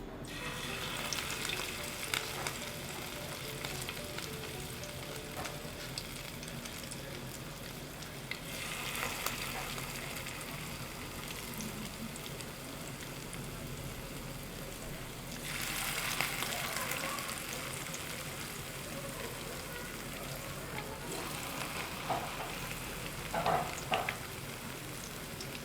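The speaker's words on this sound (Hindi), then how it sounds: "और इसको फ्राई करते जाएं।" Round hand-shaped kebabs frying in ghee in a pan, a steady broadband sizzle running throughout with louder swells of spitting fat at intervals.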